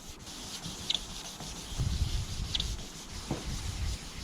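A Simca 1100 car body being hand-sanded for repainting: close, rough rubbing strokes with uneven rhythm and a few short scratchy accents, no voices.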